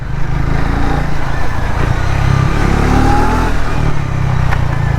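A Triumph Speed T4 motorcycle rides at speed, its engine droning steadily with a rising pitch as it accelerates, heavy wind rush over the microphone throughout and no talking.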